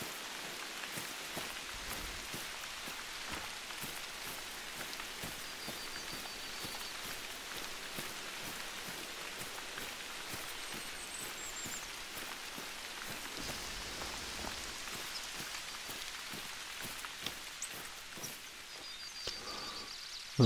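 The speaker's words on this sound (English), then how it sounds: "now this rain, while making it more difficult for us to hear" Steady rain pours down in the Hunter Call of the Wild hunting game, a dense, even patter of drops on surfaces that holds at a constant level throughout with no voices.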